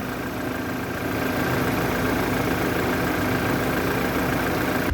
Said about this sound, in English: Now, a shot of the motor with it running.